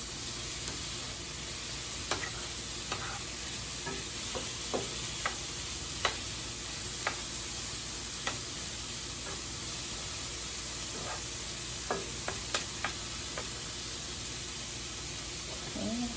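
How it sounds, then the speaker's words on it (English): Hot oil heating in a pan ahead of frying plantains for shrimp tacos gives a steady, moderate sizzle, with light clicks and pops scattered through it. No one speaks over it. "I'm letting the oil heat up a little bit so I can add the plantains back in there to fry."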